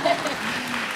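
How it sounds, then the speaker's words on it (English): Audience applause at a plenary session on financial aid, a dense wash of clapping filling the whole brief moment at fairly close range. "You can applaud for that too"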